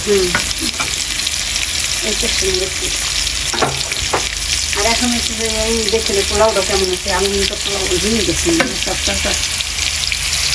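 Spices for chicken pulao frying and being stirred in a pan, a loud steady sizzle with scraping stirs, and a voice speaking intermittently over it.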